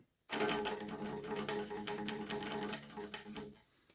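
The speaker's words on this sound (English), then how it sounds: "obviously it sounds horrible because this is unplugged" A tritone chugged rapidly on an unplugged electric guitar, a quiet, dry, muted chopping rhythm lasting a few seconds before stopping.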